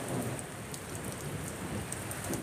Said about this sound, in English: Heavy rain fell while flashes of lightning illuminated the night sky and booming thunder echoed in the region's first major storm of the season